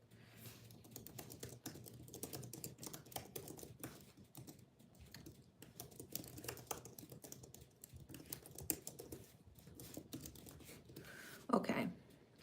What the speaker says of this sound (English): I'm gonna text her on my computer.